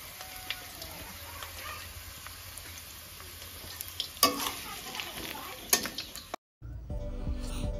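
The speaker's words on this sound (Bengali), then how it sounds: "আলু ভাজা হচ্ছে আর কি" Potatoes sizzle and fry in a home kitchen pan as a ladle stirs and scrapes them now and then. The frying hiss stays steady and close, broken by a sharp cut near the end.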